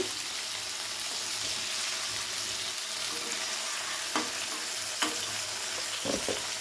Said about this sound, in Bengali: খুব বেশি কিন্তু ভাজতে হবে না, হালকা করে একটু ভেজে নিতে হবে।